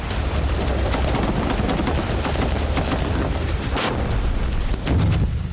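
Bombing explosions in Gaza's Shujaiya camp come as a dense, continuous rumble of distant blasts and gunfire-like cracks, loud and without speech.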